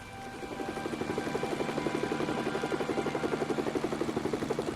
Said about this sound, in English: Which is going to be Joker's helicopter.